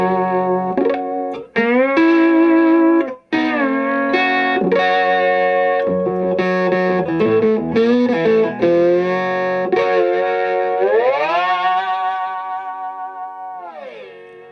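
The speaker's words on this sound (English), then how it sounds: "right now you're hearing it through a Fender Deluxe, a 1953 Fender Deluxe." A McKinney lap steel guitar played through a 1953 Fender Deluxe amp rings out in sliding, sustained notes with gritty overdrive, loud and close, ending on a long swell that fades away, with no talk.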